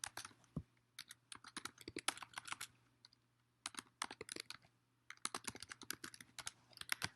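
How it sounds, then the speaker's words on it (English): Keys on a computer keyboard clatter in quick, close bursts of typing separated by short pauses, quiet and with no voices. "I'll type it, down here so you can see it."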